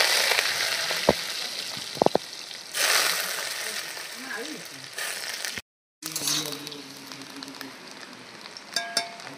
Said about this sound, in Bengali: আলুগুলো একটু ভেজে নেবো আগে।